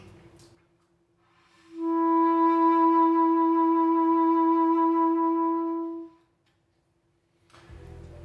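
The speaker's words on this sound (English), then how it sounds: "Typically, vibrato on the saxophone is produced by a subtle wiggle of the jaw" A single sustained saxophone note held for about four seconds, steady and fairly loud, with a gentle jaw vibrato wavering its pitch, heard alone between quiet pauses.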